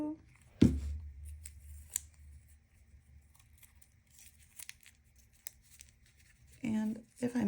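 Scissors snip and trim a paper cupcake liner while crafting a pom pom Easter chick, giving a few soft cuts and light paper crinkles close to the microphone; a voice speaks at the end.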